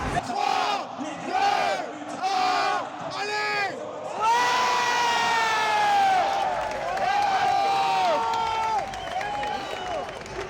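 A crowd at a Rocket League esports major in Paris erupts in cheers, whoops and applause, with loud rising shouts in waves and people shouting excitedly close by.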